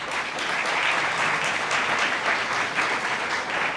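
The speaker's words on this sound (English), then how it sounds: "Round of applause." Applause from a seated student audience at a business school Dragon's Den event fills the room, steady and dense throughout with no voices on top.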